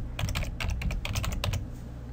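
Rapid keystrokes clatter on a computer keyboard while code is entered in Excel's VBA editor, close and steady with uneven bursts of clicks and no voices.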